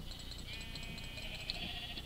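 Sheep bleat in the video game Minecraft, a faint, steady, quiet layer of repeated wavering calls lasting about two seconds, with no talk over it.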